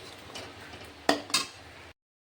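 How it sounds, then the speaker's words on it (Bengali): Poppy seed and cashew paste sautéed and stirred in a pan for a Dashami-special katla kalia, with a steady low sizzle and two sharp scraping clinks of the spoon against the pan midway, then sudden silence. "পোস্ত আর কাজু পেস্টটা এবার এটাও আবার আমি ভালোভাবে কষিয়ে নেব"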